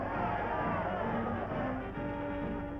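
A huge crowd of about 200,000 fans lining Wisconsin Avenue in Milwaukee cheers Braves players, forming a steady, dense roar of distant voices with no single voice standing out.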